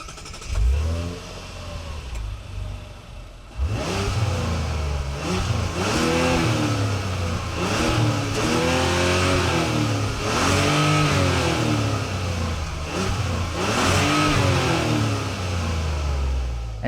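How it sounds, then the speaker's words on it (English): A 2026 Mazda CX-90 Turbo S Premium Sport SUV with an inline-six engine sits quiet at first, then fires up and revs repeatedly in a series of rising and falling sweeps, loud and close, with no talking. "This is an inline 6 engine, so some of you are probably curious to hear how it sounds,"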